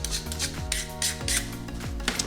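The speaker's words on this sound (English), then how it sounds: "And you just rub it back and forth a bunch of times." A blade is stropped on a leather belt in rhythmic back-and-forth strokes, each pass a close, dry rubbing rasp repeated about four times in quick succession.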